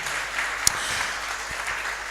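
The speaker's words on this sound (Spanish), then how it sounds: "Demos un aplauso fuerte al Señor por eso" Church congregation applauding loudly and steadily at a worship service in Argentina, a dense continuous clapping wash with one sharp louder clap standing out near the middle.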